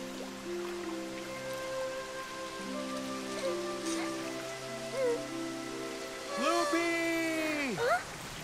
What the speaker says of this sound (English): It's been raining and raining the whole day. It won't stop.